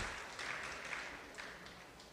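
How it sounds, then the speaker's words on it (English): Faint applause from an audience at a Maha Shiva Ratri gathering, a soft continuous patter of many hands clapping, distant and steady. "So just quick round of applause also for Bhakta Gabriel."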